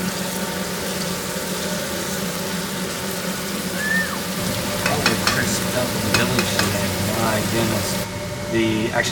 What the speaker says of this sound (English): Once again, it should be sizzling.